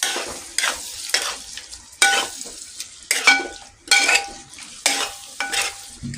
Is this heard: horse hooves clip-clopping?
no